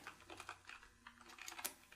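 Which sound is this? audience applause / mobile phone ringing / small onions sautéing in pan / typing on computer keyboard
typing on computer keyboard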